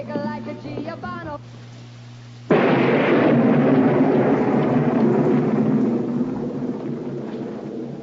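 A thunderstorm in a film: a sudden loud thunderclap bursts in after brief dialogue and music, then rolls on as a sustained, heavy rumble that slowly fades.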